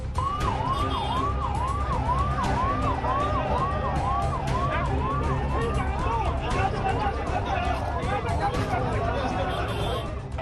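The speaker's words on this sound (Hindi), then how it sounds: "देखिए किस तरह प्रदर्शनकारियों ने एम्बुलेंस को रास्ता दिया।" An ambulance siren wails steadily as it is let through a crowd of protesters, its rising and falling tone repeating throughout over a loud din of traffic and crowd noise.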